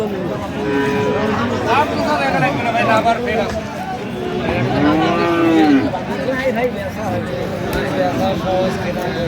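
Friesian and cross-breed bulls and calves low with a drawn-out moo at a busy village cattle market in Aftabganj, under constant nearby talk and crowd chatter.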